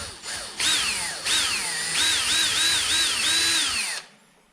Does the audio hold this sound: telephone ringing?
no